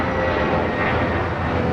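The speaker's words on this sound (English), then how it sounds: "JetBlue 880, Idlewild Blue taking off to Las Vegas" A JetBlue Airways jet takes off at LAX with a steady, fairly loud engine roar and a faint whine riding over the rumble.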